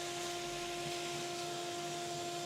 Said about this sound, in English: Simply take your shop vac or whatever you want to use.